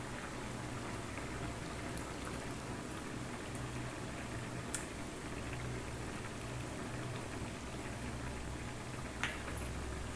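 Steady bubbling and soft popping of a thick tamarind okra gravy simmering in a pot, a continuous low hiss with occasional sharper pops, no voices.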